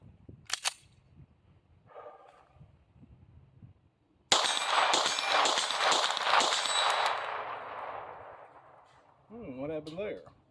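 A Tisas 1911 pistol fitted with a CZ Industries compensator fires outdoors with a sharp, loud crack, then metallic clanging and ringing rattle. A voice speaks briefly near the end.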